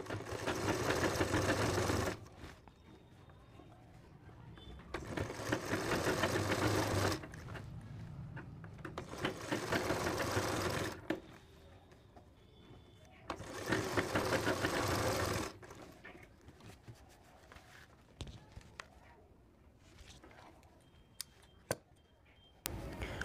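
Sewing machine stitching fabric for trousers, running in several loud bursts of a few seconds each, separated by quieter pauses with small clicks and handling noises.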